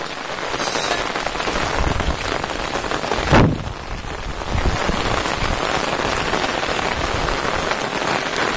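Heavy monsoon rain pours over a flat plateau in the Konkan countryside, a loud, dense and steady hiss of falling water that continues throughout, with one brief sharper burst partway through and no voices.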